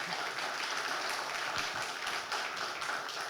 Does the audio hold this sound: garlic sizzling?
no